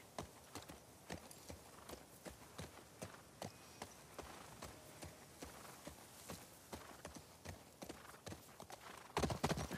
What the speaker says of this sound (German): Wir reiten herum und halten Ausschau.